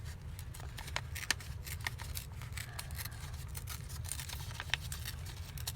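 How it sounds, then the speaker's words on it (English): Paper from a bank envelope being torn by hand around a cut-out image, a run of quiet, crisp ripping strokes in short irregular bursts over a low steady hum. "Ripping around."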